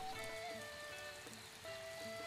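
Steady rain falling in a video game, a soft continuous wash of patter with faint musical tones ringing above it.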